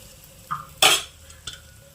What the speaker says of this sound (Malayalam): എന്നിട്ട് നമുക്കിത് ഈ താളിച്ചത് ഈ കറിയിലേക്ക് ഇട്ട് കൊടുക്കാം.